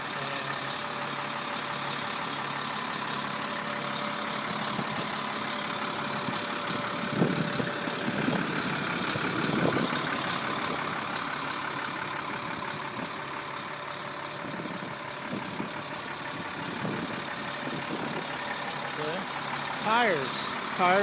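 A 1998 Cornwell tool truck's engine runs at a steady, even idle, a continuous low drone heard close by from start to finish, with a person talking intermittently over it.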